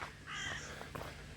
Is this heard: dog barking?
no